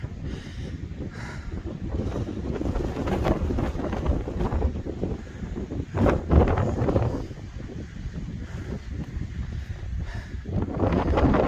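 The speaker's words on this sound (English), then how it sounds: "It's pretty windy up here." Strong wind on the summit of Mount Success in New Hampshire, on the Appalachian Trail, roars and buffets the microphone steadily with gusts throughout.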